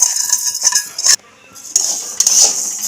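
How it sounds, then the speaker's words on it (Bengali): A spoon stirs and scrapes moong dal as it dry-roasts in a heated kadai, giving close, loud metallic clinks and rasps with a short pause in the middle. "কড়াইটা গরম হয়ে গেছে মুগ ডাল একটু নেড়ে ছেড়ে ভেজে নিই"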